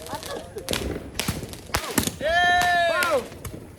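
Firecrackers pop in a quick scatter of sharp bangs, then a long whistling shriek from one of them, with children's excited voices and chatter around the blasts.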